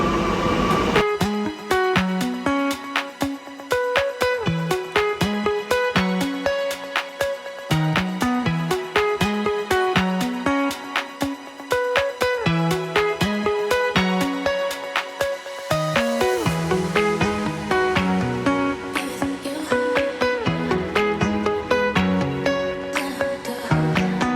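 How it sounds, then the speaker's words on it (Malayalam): A train at a station platform rumbles past with loud, rhythmic clattering and a strong repeating beat of wheels over rail joints, continuous throughout. "അപ്പോൾ അവിടെ ഇപ്പോൾ ഒരു ട്രെയിൻ വന്നിട്ടുണ്ട്"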